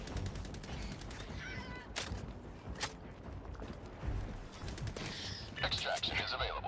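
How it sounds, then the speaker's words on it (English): Machine gun fire and explosions in Helldivers 2, bursts of rapid shots mixed with a dense battle din, with a player talking over the action. "Machine gun."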